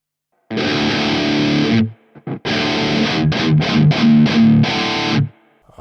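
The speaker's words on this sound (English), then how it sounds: "I have a feeling this can do just a really good death tone, that 8100" An electric guitar plays through a Marshall Studio JCM900 amp set to high gain with cranked bass, cut mids and a touch of reverb. A loud, heavily distorted sustained chord rings first, then a run of chugging palm-muted hits and a final ringing chord.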